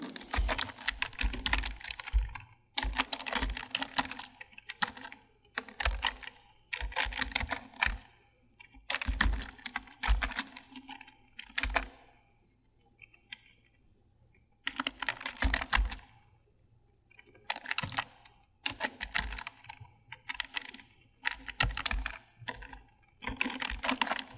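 Someone types on a computer keyboard in rapid bursts of key clicks separated by short pauses, close and crisp, with a few heavier spacebar or enter strikes and no speech.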